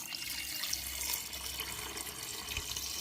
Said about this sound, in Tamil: தண்ணியை ஊற்றுவோமே.